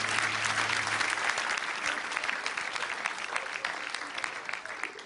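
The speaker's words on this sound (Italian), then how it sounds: "Cacio, un applauso, grazie" Audience applause at an Italian comedy stage show, a dense sustained burst of many hands clapping that stays loud and steady, fading slightly toward the end.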